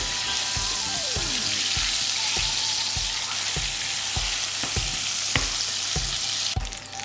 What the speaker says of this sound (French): Ok, maintenant que j'ai un caramel avec une bonne couleur, je vais venir ajouter mon beurre.